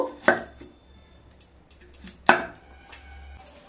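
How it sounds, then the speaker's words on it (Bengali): Radishes are cut on a board at home while making a vegetarian radish chhechki, two sharp knife chops about two seconds apart, close and clear against a quiet kitchen. "তার আগে মূলোগুলোকে একটু কেটে নেব।"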